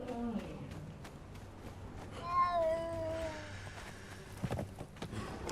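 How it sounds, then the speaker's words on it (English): In the Conan Exiles survival game, a cat lets out a single short meow that stands out from quiet ambient noise and scattered footsteps. "I just heard cat."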